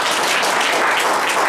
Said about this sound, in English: let's give a round of applause for the students